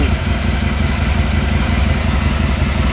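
Aprilia Caponord motorcycle engine idling close by while the idle hunts, a loud, steady, throbbing rumble with a continuous mechanical clatter throughout.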